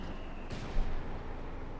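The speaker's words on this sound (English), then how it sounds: "Nein, just shooting anti-tank rifles" Anti-tank rifles firing at a Panzer in Company of Heroes 2 battle, a single sharp crack followed by a short rumbling thump, heard against steady low battlefield ambience.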